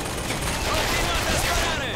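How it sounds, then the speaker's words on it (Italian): A machine gun turret in the video game Bioshock Infinite fires a dense, continuous burst of rapid shots, loud and sustained with a faint voice buried in the noise. "Torretta mitragliatrice, eccola!"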